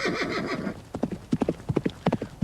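Imitation horse hooves clip-clop in an uneven trotting rhythm of close, hollow knocks, standing in for real horses in a comedy scene about the 1066 campaign, with a brief whinny-like noise at the start.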